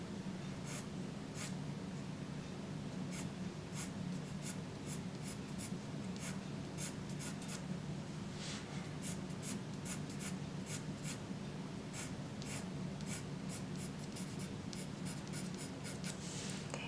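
Pencil strokes on paper while drawing hair, quiet rapid flicking scratches repeating in irregular bursts against a soft background hum.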